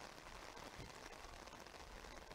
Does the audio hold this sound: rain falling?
yes